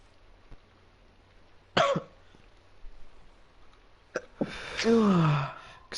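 A single sharp sneeze bursts out near the microphone during a Minecraft gaming session, followed a few seconds later by a longer, louder vocal burst against quiet background noise.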